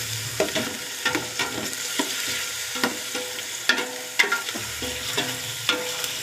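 Chicken fries in a pot for sopas, sizzling steadily while a utensil stirs and scrapes against the pot in repeated irregular clanks, close and fairly loud.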